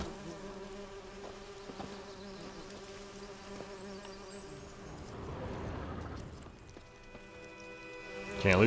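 Bees buzz steadily in The Witcher 3 video game. The insect hum is close and continuous and swells slightly midway, with soft in-game sounds underneath and a brief louder sound at the very end.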